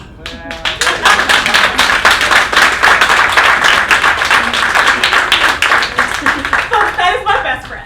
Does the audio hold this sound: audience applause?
yes